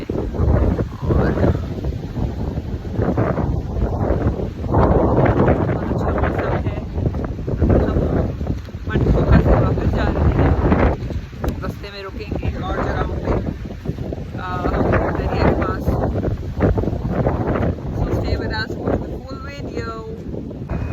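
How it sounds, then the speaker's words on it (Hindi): Strong wind buffets the microphone with a loud, continuous low roar near Manthoka waterfall in Shigar, Gilgit-Baltistan, on a rainy day with low clouds, and a voice talks over it at times. "बहुत तेज हवाएं हैं।"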